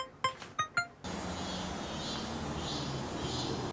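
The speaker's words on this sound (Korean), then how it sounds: "밖에 무지 덥네요. 이놈의 매미 소리 때문에." Dense, steady buzzing of cicadas outdoors on a hot day, a loud continuous broadband drone that sets in after a few brief knocks at the start and carries on unbroken to the end.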